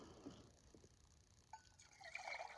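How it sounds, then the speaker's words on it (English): Water trickles and splashes into a pot for boiling coffee water, faint and close, with the pour building toward the end. "pour some water off to get on the boil."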